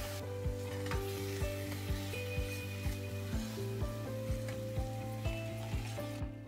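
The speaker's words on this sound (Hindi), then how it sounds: "प्याज, हरी मिर्ची और लहसुन को हम थोड़ा भूनने देंगे।" A paste of onion, green chili and garlic fries in a pan with cumin, a soft steady sizzle running beneath louder rhythmic background music with a regular beat.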